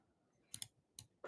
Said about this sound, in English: You're typing in.